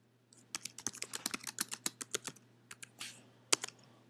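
Fingers tap out a name on a computer keyboard in a quick, uneven run of close, crisp keystrokes, pausing briefly before a final few louder presses.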